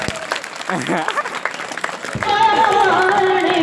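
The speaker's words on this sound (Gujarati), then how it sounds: "અને મને હિનાબેન માટે જોરદાર તાળીઓ પાડજો છોકરી માટે યાર." An audience at a college students' stage play about dowry in Juna Bakarpur bursts into loud, sustained clapping for the actress Hinaben, following a man's speech and continuing to the end.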